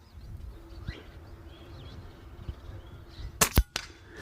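An Avenge-X X1-BT tactical air gun fires a single sharp shot near the end, a loud crack with a short ringing tail over quiet outdoor background with faint birdsong.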